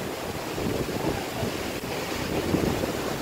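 Typhoon Rolly (Goni) winds in Quezon province buffeting the microphone in a continuous loud roar, with gusty swells and surging rushes and no voices.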